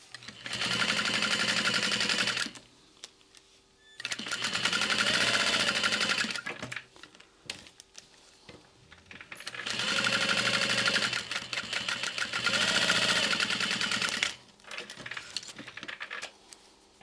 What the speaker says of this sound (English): And I'm going to top stitch these.